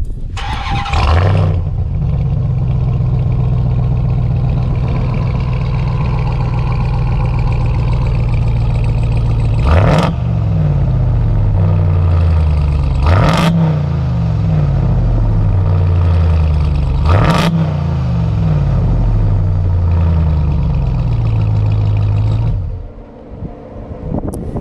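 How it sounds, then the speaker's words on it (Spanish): A 2021 RAM 1500 TRX cranks and fires up, then settles into a loud, steady idle. Three sharp revs punch through at intervals before the engine shuts off near the end, heard up close with no talking. "hagamos la prueba del sonido de ese motor desde el inicio, desde el encendido, para ver cómo suena"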